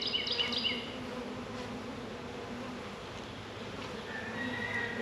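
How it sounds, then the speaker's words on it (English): Steady low insect buzzing, a dense hum of many honeybees close by during installation of package bees into a hive, with faint higher tones drifting in and out; no voices. "A couple of bees may work their way out,"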